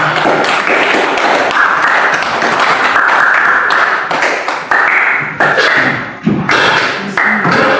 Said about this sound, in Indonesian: Kita beri tepuk tangan kepada semua kelompok ya hari ini